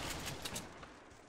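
Rapid gunfire in the video game Fortnite, a quick burst of several shots in a row at moderate level, fading toward the end.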